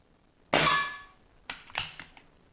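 A Diana Bandit air pistol with regulator fires, a sharp crack with a metallic ring, then two or three quick clanging hits on a metal target, close and alone in a quiet room.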